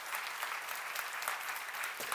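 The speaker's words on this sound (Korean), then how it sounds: "박수야." Steady audience applause at a church seminar on Deuteronomy, a dense continuous patter of many hands clapping throughout with no voice over it.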